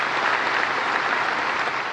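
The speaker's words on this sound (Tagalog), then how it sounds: "Sa pahayag na ito, umani ng palakpak ang Pangulo." Audience applause during the Philippine President's State of the Nation Address: steady, dense clapping from a large crowd, even and continuous throughout with no breaks.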